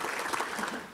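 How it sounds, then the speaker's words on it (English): An audience at a Little Rock Touchdown Club awards banquet applauds a group of honorees, steady close clapping that holds evenly throughout with no talking. "Let's have a big applause for all 12 of these honorees."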